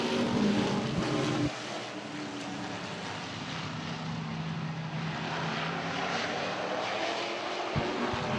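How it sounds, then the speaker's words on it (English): McIntosh Oil late model race cars take the green flag at a speedway on championship night, a dense, steady engine roar droning at a distance with a sudden drop in pitch partway through. "we're going green flag racing for these McIntosh Oil late models."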